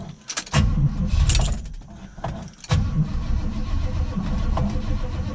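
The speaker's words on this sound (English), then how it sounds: "Alternator squealing because the battery is so dead." A 1980 Chevy Camaro, a former racecar turned custom street car, cranks on a very dead battery while the alternator squeals, with a few brief catching bursts and a steady rough mechanical drone close by.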